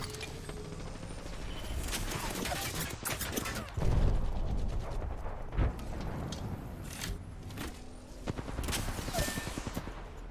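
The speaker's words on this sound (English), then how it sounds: "My character can put up cover and spawn a machine gun." Sustained machine gun fire in a video game: a dense, fairly quiet stream of rapid shots mixed with mechanical clanks and ratcheting clicks, continuing throughout.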